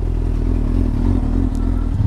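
A motorcycle engine idles steadily and loudly nearby, a constant low rumble with a slight clattering edge.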